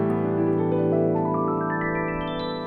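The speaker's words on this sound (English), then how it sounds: "let's say I want to do a pentatonic run going up, I could do." A quick pentatonic run climbs up the piano keyboard with the sustain pedal down, the notes ringing on and merging into a sustained resonant blur, solo and close.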